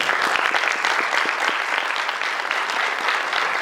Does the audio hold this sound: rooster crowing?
no